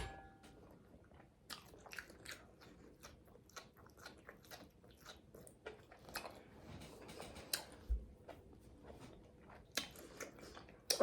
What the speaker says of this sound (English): I like my asparagus to have that crunch.